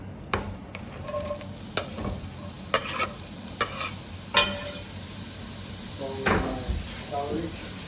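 Onions frying in a pan for a Thai curry make a constant sizzle under repeated stirring knocks and scrapes and a few clattering kitchen bumps, close and moderately loud, with no talk.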